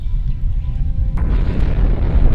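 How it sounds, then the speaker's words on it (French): Film explosion from Independence Day: a deep rumbling boom with a sharp burst partway through, followed by roaring debris noise, loud and without talk. "Regarde, fiston, une explosion."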